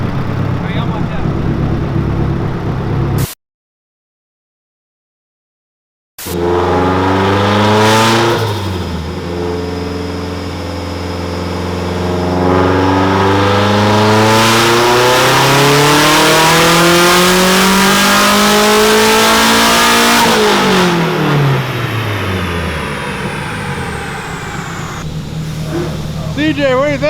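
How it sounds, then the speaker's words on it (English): A Nissan DR30 shop car with a loud exhaust revs hard, its engine note climbing and falling in long sweeps, very close and loud, with a brief silent gap early on. "You guys don't know, but this car is insanely loud."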